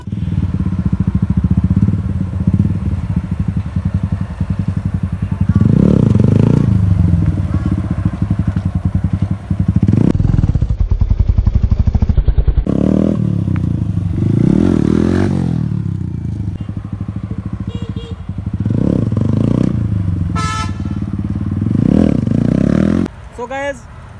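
A motorcycle is ridden in stand wheelie stunt practice, its engine idling close by and then revving hard in repeated loud surges, with scraping clatter and a person talking at times.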